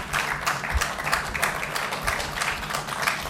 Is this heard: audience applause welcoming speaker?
yes